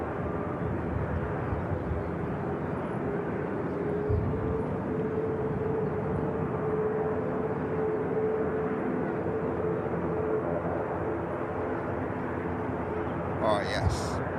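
An airliner taxis at Manchester Airport, its engines a steady, broad roar held at a constant level, with a brief sharper noise near the end.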